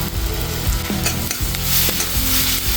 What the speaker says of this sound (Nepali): प्याजलाई चाहिँ बेला बेलामा यसरी चलाएर भुट्नु होला